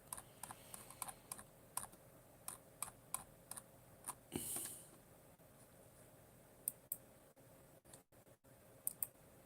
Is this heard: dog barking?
no